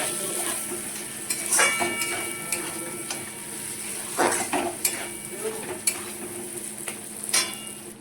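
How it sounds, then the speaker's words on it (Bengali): A spoon stirs a katla fish oil curry in a pan: repeated scraping strokes and clinks over a low, steady sizzle of the oily mixture, with no voices. "এবার ভালো করে এটা সাথে মিশিয়ে নেবো"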